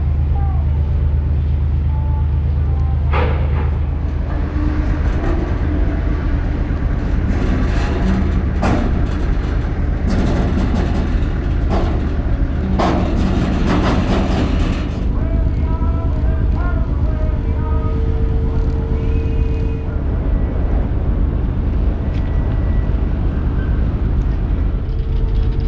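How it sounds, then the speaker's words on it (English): Wärtsilä diesel main engines of the ferry Volcán de Tamadaba starting in port, a loud, continuous deep rumble with a low steady hum, broken by clanks and bursts of mechanical noise, and a faint voice over it. "This is the moment the main engines come to life."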